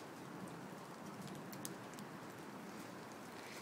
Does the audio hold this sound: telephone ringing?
no